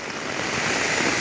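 Heavy rain pours down steadily near a rural Thai home, with water running off, a dense, even hiss that stays loud and unbroken throughout, with no voices.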